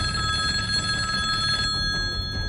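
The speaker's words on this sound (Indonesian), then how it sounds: "Bunyi telepon berdering di Asrama Cijantung, Jakarta Timur pada hari Sabtu" A telephone bell rings continuously in a military barracks dormitory in Cijantung, East Jakarta, loud and close, with a steady metallic trill and no voices.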